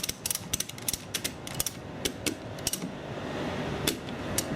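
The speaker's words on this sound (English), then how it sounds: "thumb on it to secure the strap through the ratchet, and just keep flicking" A ratchet strap is tightened by flicking the ratchet, producing a series of sharp close clicks at an uneven rhythm over a faint background hum.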